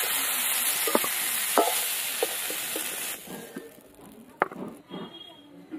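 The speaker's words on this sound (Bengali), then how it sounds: "এই দেখুন ব্রোকলি গুলো কিন্তু একদম ভালো করে ভেজে নিয়েছি" Broccoli frying in oil with turmeric in a pan, a steady close sizzle with a few sharp clicks of stirring, then the hiss fades down to quieter scraping and pops near the end.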